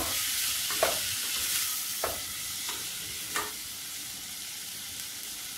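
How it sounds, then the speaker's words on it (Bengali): Soaked basmati rice frying and being stirred in hot oil for chicken mandi: a steady sizzle runs throughout, broken by a few sharp scrapes of the utensil against the pan. "দুই 3 মিনিট তেলের সঙ্গে ভালো করে ভেজে নেব।"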